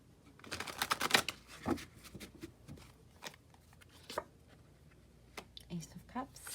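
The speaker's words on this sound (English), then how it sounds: "One more shuffle." Tarot cards are riffled and shuffled up close, giving quick papery flutters and soft clicks in uneven bursts, faint overall, with a quiet voice in the background.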